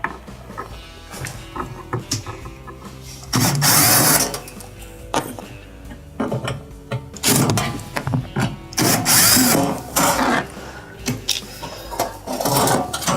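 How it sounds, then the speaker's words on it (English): A ratchet backs screws out of the bottom kick panel of a Maytag dishwasher, with loud, close bursts of rapid clicking repeated in several runs and short pauses between them. "remove the 2 1/4-inch screws from the bottom kick panel"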